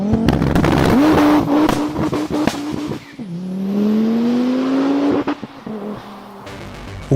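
A five-cylinder performance car's exhaust rasps loudly through several rising revs and gear changes, a distinctive warbling engine note with sharp pops and crackles between pulls, close and unaccompanied by talk.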